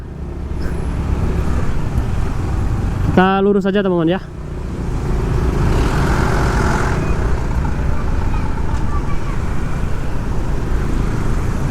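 Congested traffic on Jalan Raya Canggu in Bali, a steady roadway rumble of cars and motorbikes throughout, with a brief louder horn-like tonal blast partway through and someone talking over the noise.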